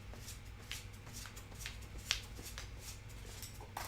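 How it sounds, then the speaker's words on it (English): Playing cards are riffle-shuffled by hand, close up. A soft, rapid flutter of cards comes in several quick passes, with one sharp snap about midway and a faint tap near the end. There is no talk. "My shuffle is like reasonably fast."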